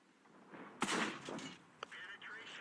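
Tank gun firing in World of Tanks, a single sharp blast with a rumbling tail, followed by a quieter metallic clank, with a voice faintly present.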